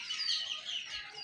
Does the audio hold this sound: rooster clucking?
yes